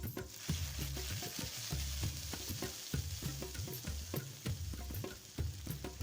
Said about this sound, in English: Stir fry for a while and then add the paste we blended earlier.